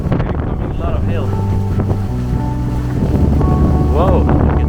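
Strong gusting wind roars across the microphone outdoors during a hailstorm, loud and continuous, while someone talks over it.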